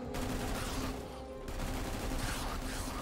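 A turret fires in the sci-fi action video game ANVIL: Vault Breakers, producing a sustained, loud barrage of rapid gunfire that keeps going with a brief dip in the middle over about three seconds.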